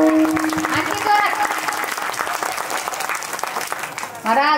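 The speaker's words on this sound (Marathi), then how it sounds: "एकदा स्वतःसाठी जोरदार टाळ्या वाजवा. आणखी जोरात आणखी जोरात." An audience at a devotional talk applauds loudly and steadily, a dense wash of clapping, with a voice audible over the start and a shout near the end.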